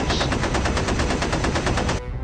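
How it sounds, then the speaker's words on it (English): Rapid, loud automatic fire from a B-17 bomber's starboard waist machine gun as a sound effect, a steady stream of closely spaced shots for about two seconds that then cuts off abruptly. "The starboard waist gunner, Judd Vance, fires"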